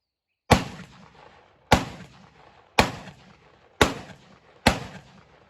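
Beretta 1301 semi-automatic shotgun firing 3-inch shells: five loud, sharp blasts spaced roughly a second apart, each with a short decaying echo, and no talking.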